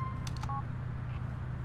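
A phone is dialed in Grand Theft Auto IV: a few quick electronic keypad tones beep in a short burst, faint against a low steady background hum.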